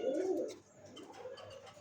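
Pigeons coo softly at a farm in Savar, Dhaka, with a low, rounded call near the start followed by fainter cooing and rustling in a quiet room.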